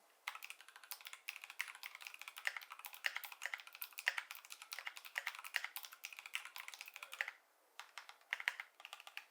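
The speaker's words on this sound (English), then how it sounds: "The GMMK Pro pre-built comes pre-equipped with Glorious Fox linear switches," Typing on a GMMK Pro mechanical keyboard fitted with Glorious Fox linear switches, a steady close-up run of crisp, fairly soft keystrokes with a brief pause near the end, no voices.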